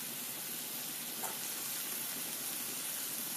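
Chopped cabbage going into a hot pan of spice mix with coriander powder, giving a steady broad sizzle throughout with one brief clink near the middle, no voices.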